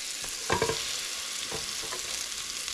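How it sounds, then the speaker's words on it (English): Butter melting in a pan for buffalo chicken pasta gives a steady, close frying sizzle, with a few brief stirring clinks near the start and middle. "So we're going to melt the butter."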